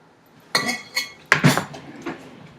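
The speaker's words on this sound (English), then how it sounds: "I like to take a large fork and just kind of mash it around and mix it all up good" A large fork clinks and scrapes against a bowl while mashing and mixing ingredients, a few distinct close knocks and rattles in quick succession, no talk.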